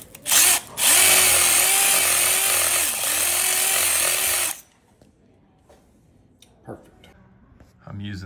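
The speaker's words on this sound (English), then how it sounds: "if you wrap sand cloth at an angle so that you can tape the top. It works kind of like a flap wheel" A drill spins sand cloth wrapped at an angle like a flap wheel to clean a pipe, with a loud whining motor and abrasive scrubbing in two bursts before it stops, followed by quiet handling noises.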